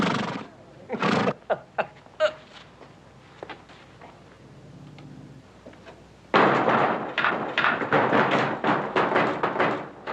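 A horse whinnies loudly, followed by scattered thumps and faint noises, then a dense burst of clattering, rumbling commotion fills the last few seconds.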